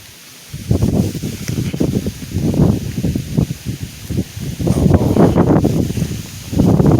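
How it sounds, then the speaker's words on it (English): Strong snowstorm wind in Buffalo, New York, buffets the microphone in loud, surging rumbling gusts that rise and fall for several seconds, with no talking. "It's pretty windy out though, so it might be all drift."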